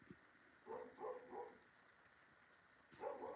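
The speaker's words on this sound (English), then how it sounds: "I have puppies barking in the background" Two rescued puppy sisters bark faintly in the background, with a quick series of three yaps followed after a pause by another short burst.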